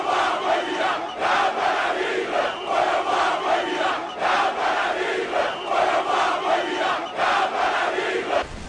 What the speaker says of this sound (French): le candidat du parti Univers est accueilli par une foule surexcitée.